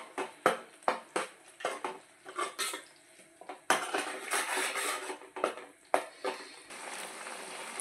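Fish curry stirred in a pan, a rapid series of close metallic scrapes and clinks from a utensil against the pan, with a softer frying hiss in stretches between.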